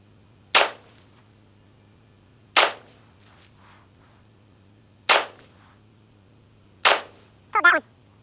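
Four sharp rifle shots crack at a shooting range, evenly spaced about two seconds apart, each loud and close with a short decay, and a brief voice follows the last.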